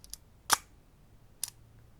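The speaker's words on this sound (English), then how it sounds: "that's a really cool shutter sound" Shutter of an EXA or Praktica classic film SLR camera firing: a sharp mechanical clack followed about a second later by a second quieter click, close and isolated in a quiet room.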